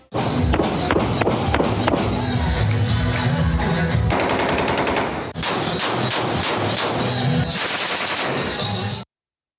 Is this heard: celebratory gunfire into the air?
yes